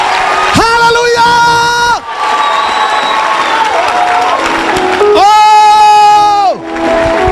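A church congregation erupts in loud cheering and shouting in acclaim of Jesus, with rising and falling whoops and sustained cries from many voices, close and very loud, in two long bursts separated by a short lull.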